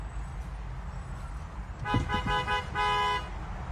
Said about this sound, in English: He honked his horn.